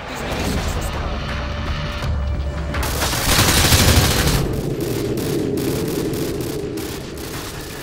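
Sustained automatic gunfire from a Call of Duty: Modern Warfare 2 (2009) campaign firefight, with bursts of shots and heavy booms rolling over each other continuously and loudly, a soldier's voice briefly heard amid the battle.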